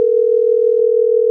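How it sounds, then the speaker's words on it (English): A telephone dial tone hums steadily and loudly for the whole moment as a call is being placed, one unbroken pitch with a faint click near the middle and no voices. "So we're ringing up Conrad O'Brien."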